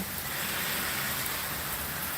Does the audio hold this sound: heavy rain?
yes